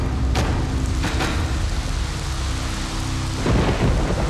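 A violent thunderstorm over a flooded island camp: heavy rain pours and hisses continuously, broken by sharp cracks and deep rolling thunder, loud and close throughout, with no voices.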